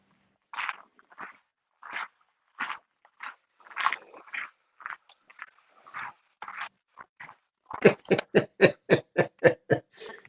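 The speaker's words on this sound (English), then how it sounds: "Sounds like he's chewing potato chips or something" Crunchy chewing as if on potato chips, close and fairly quiet, in irregular bursts that give way to a quick run of sharp, rhythmic crunches near the end.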